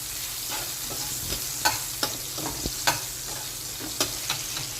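Onions sizzling in a pan for a Bengali prawn malaikari, a steady frying hiss with a few spatula stirs and scrapes clicking through it, close and moderately loud, no voices.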